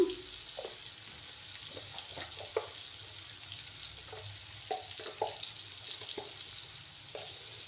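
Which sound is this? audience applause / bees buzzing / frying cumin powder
frying cumin powder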